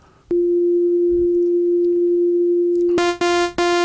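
A HALion 5 software synthesizer oscillator holds a steady pure tone, then switches to a bright, buzzy saw wave rich in harmonics that is briefly retriggered twice. Loud and continuous, with no voices.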